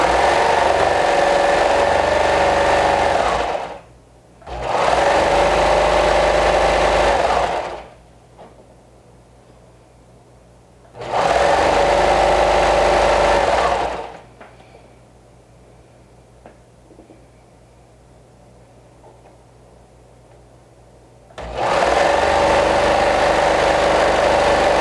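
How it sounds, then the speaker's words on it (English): A sewing machine runs a stretch stitch seam with a 1/2 inch seam allowance on a dress skirt, sounding as three loud motor bursts of a few seconds each, split by quiet gaps, with a fourth burst starting at the end. "If you do use your sewing machine, use a 1/2 inch seam allowance and a stretch stitch."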